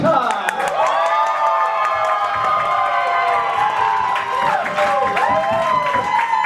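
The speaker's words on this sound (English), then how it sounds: "So everybody clap for Manish." Studio audience at a comedy dating show cheering and whooping for a contestant, a loud sustained crowd of excited voices with some clapping mixed in.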